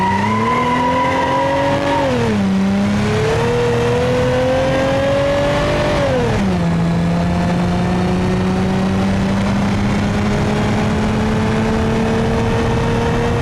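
Car with a 2.2 liter V6 engine in BeamNG.drive, revving loudly up and down, then dropping to a low idle before climbing steadily, close and alone.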